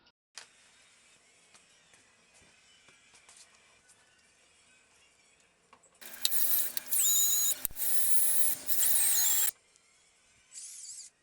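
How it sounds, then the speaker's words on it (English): A power drill bores a hole into the rear metal body of a car, with the bit dipped in water, in three loud, high-pitched bursts after a quiet stretch of faint handling noise, with a short final burst near the end. "I'm drilling a hole on the back of my car"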